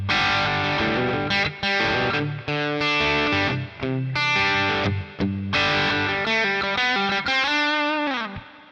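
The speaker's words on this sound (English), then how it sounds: "we'll move on to crunch, and this is starting to get a little bit more bite into it" A distorted electric guitar through a Boss Katana Air amp's crunch channel plays chords and riffs with a crunchy, gritty tone, loud and continuous.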